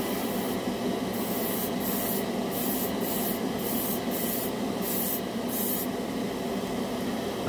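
Cheap $14 dual action airbrush spraying paint, a continuous airy hiss broken by about eight short, sharper bursts as the trigger is worked, close and fairly quiet.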